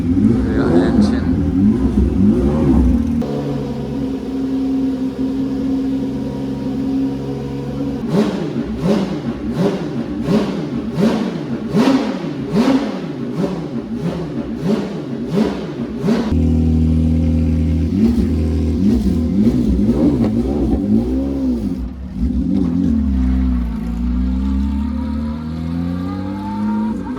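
A Lamborghini's rear engine idles and then revs through a long series of rhythmic blips at a car meet, each rev rising and falling before it settles back to a low rumble, with people talking nearby.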